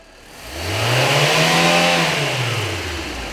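A Fiat Albea 1.4 engine with crankshaft and camshaft position sensor faults revs up, its pitch climbing and holding high before easing back down, loud and close with no talking.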